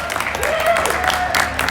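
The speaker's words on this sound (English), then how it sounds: "Dave Dwayhe applauds the fans." Applause at a youth soccer SuperLiga championship, brief and moderately loud, with crowd voices mixed in.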